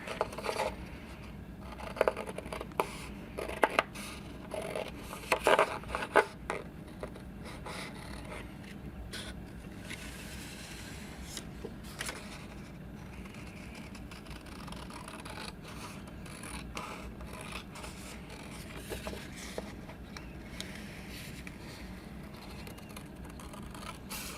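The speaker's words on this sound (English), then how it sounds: "I'm just going to cut right around the edges here." Scissors snip around the edges of paper pieces for a December Daily crafting project, soft intermittent cuts and rustling paper, close and quiet with scattered louder clicks early on.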